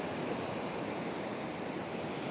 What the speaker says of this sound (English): you can see the aftermath of the waves over here, all the mist and spray